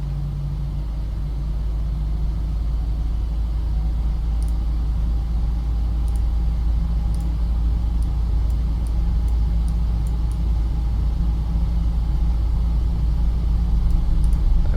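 Ryanair Boeing 737NG jet engines spooling up with a bit of thrust to taxi in a flight simulator, a steady low rumbling drone with a faint whine, even and continuous, with faint clicks near the end.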